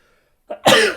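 A single sharp sneeze bursts out after a brief intake of breath, loud and close in an otherwise quiet moment.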